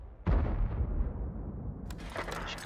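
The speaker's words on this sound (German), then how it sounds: "Mein Schuss hätte getroffen und wahrscheinlich auch penetriert, aber ist vorbeigeflogen" A tank cannon fires in a World of Tanks–style video game, from a Type 5 Ka-Ri tank destroyer: one loud, sharp boom, then a long rumbling decay, followed by softer mechanical clatter.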